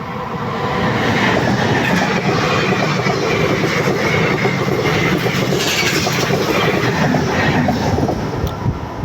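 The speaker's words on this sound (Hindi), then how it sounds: "बहुत स्पीड रहते ट्रेन" A train passes at high speed on the line between Durg and Antagarh, a loud, steady roar of rolling wheels and rail clatter that holds for the whole stretch without a break.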